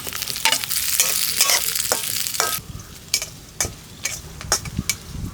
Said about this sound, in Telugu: ఉల్లిపాయ వెల్లుల్లి అన్నది లైట్గా ఫ్రై చేసుకోవాలి